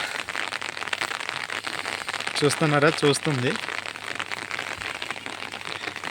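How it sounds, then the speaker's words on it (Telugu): Steady rain patters and crackles on a surface throughout, with a brief bit of nearby talking partway through. "ఇప్పుడైతే మెల్లమెల్లగా వర్షం అనేది కూడా స్టార్ట్ అయిపోయింది"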